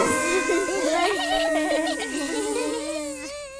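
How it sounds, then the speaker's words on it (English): Buzzing in a cartoon beehive room, rendered as steady, sliding tonal hums that waver and bend throughout, loud and continuous with nobody speaking. "This room is all about bees."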